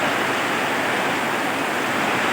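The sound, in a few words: heavy rain falling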